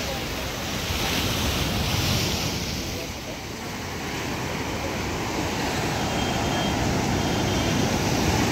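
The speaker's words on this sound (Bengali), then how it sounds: "এখন জোয়ারের টাইম, এই কারণে জলটা ধীরে ধীরে বাড়ছে।" Sea waves rolling in at rising tide on Old Digha beach, a continuous loud wash of surf mixed with heavy wind buffeting the microphone, steady throughout with a brief dip midway.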